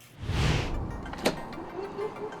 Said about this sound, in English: And then we'll close the door and we'll come back tomorrow.